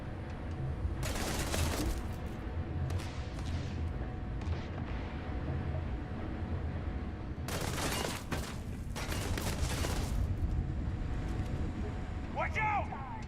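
Enemy gunfire in the sci-fi shooter game Starfield: Shattered Space, with bursts of rapid shots and booming blasts over a steady rumbling backdrop, loudest near the start and again around the middle.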